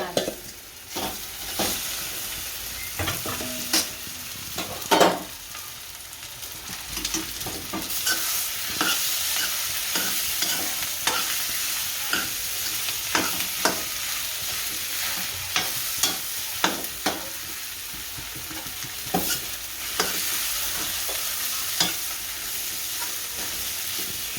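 Potatoes fry with turmeric in a pan, a steady loud sizzle broken by frequent scraping and clattering strokes as they are stirred, close up with no talking.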